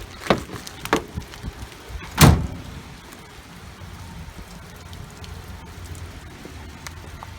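Rain falls steadily outdoors around a travel trailer hitched for towing, a soft constant hiss with a few sharp knocks and one loud clunk early on, then continuing rain with no talking.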